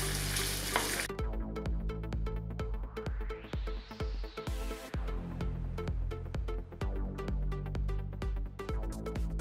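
Food frying in a pot for verdina beans with prawns and monkfish, being stirred with repeated scraping and clinking strokes over a continuous sizzle, loud and close, no talk.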